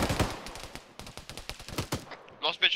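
Rapid bursts of gunfire in a military video game, sharp cracks clustered tightly together, then a brief gap and a few distant, thinner shots near the end.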